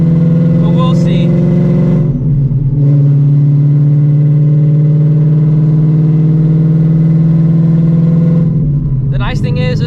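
A 950hp ESS supercharged Shelby GT350 in a hard pull, a loud, close, droning engine note holding steady for several seconds, with a brief dip and recovery and a shift-like change near the end.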